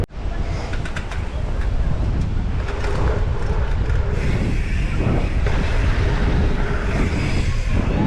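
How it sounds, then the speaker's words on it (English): Strong wind buffets a hillside downhill bike course in Rotorua, a loud, continuous roaring rush with gusty low rumble and faint higher whistles, with no voices. "It is very windy."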